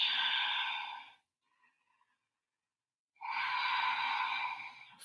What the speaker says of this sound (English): Huge breath.